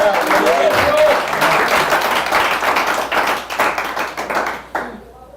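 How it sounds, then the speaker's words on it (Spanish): A church congregation clapping steadily and enthusiastically, dense and continuous, with voices mixed in and the applause fading near the end. "dele palmas al Señor por eso"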